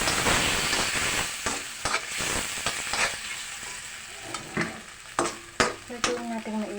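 Food fries in a pan, a steady sizzle with repeated stirring scrapes and clacks of a utensil, close and moderately loud; frozen food straight into hot oil, with eggs and fried rice being cooked.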